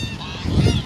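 Ducks in a city park in Palermo, Buenos Aires, give loud, close goose-like honks that build over under a second, several calls running together.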